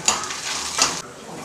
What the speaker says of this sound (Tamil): மிளகாய் நல்லா வறுபட்டுருக்கு.